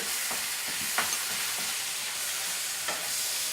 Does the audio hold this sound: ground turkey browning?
yes